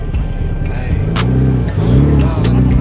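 A Lamborghini Huracan pulling into a car gathering, its engine giving a loud, close, throaty idle with rising revs and a swelling surge near the end, while people talk nearby.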